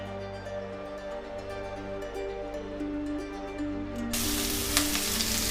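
Cumin, curry leaves, onion and green chilies sizzle and fry in hot oil for a coconut-milk drumstick curry, a steady close crackle that jumps louder near the end as more ingredients hit the pan.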